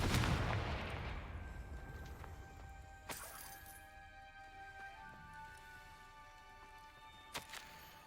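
A Confringo fire spell blasts off in Hogwarts Legacy, a loud burst at the very start that decays into a crackling tail, followed by fainter sharp impacts and magical tonal chimes.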